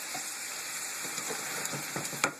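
Food sizzles and fries steadily in a hot pan, with a few sharp clinks and scrapes as it is flipped toward the end.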